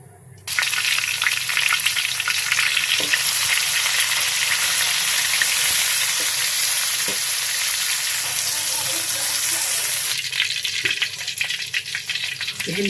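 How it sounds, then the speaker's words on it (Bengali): Okra (bhindi) frying in a pan with a loud, steady sizzle that starts abruptly and hisses evenly for the whole stretch, with a few soft stirring knocks and no talking. "ভেন্ডিটা ভেজে নেব।"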